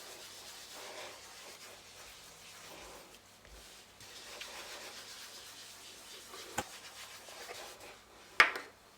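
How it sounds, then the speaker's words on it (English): A paste is scrubbed against a turmeric- and grease-stained kitchen surface, making a faint, steady rubbing that comes and goes, broken by a couple of sharp clicks near the end. "See, the stain is starting to lift, all the grease and all the turmeric is starting to come off."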